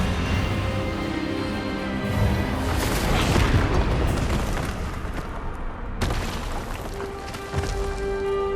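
A spell cast during a duel in Hogwarts Legacy erupts in a loud, rumbling magical blast that swells and booms for several seconds, followed by a sharp crack and a sustained ringing tail.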